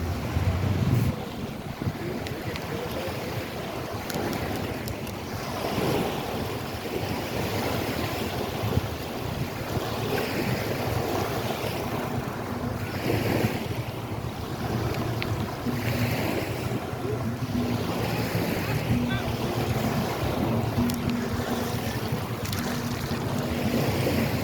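Ocean waves at high tide on Fort Myers Beach roll in with a continuous broadband wash, heavy wind buffeting the microphone throughout, loud and unbroken with no voices.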